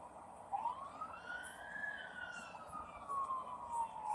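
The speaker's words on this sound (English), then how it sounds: "I hear a siren." A police siren wails in long rising and falling sweeps, moderately distant, over a steady background of road noise.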